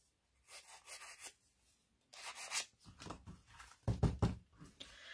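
Paper edges are rubbed smooth in a paper-craft project, making three separate bursts of close, dry scraping and rasping, with the last burst louder and more forceful.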